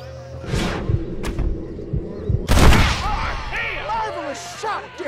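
Gunfire in the Red Dead Redemption western game, a few loud booming shots and thuds amid a gunfight, with voices talking over and after the shots.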